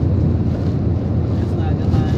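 Strong typhoon wind during Typhoon Odette roars steadily and loudly against the microphone, a dense low rumble with constant buffeting throughout.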